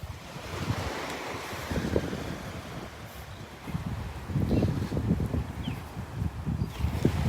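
Ocean surf rolling onto the sand at Delnor-Wiggins beach on a morning walk, a continuous wash of waves with wind buffeting the microphone, swelling louder in the second half, with no talking.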